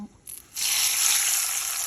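Ginger tempering in hot oil for a Telugu brinjal-tomato roti pachadi: a steady, close hiss of frying begins after a brief pause and holds loud and even to the end, with no talk over it.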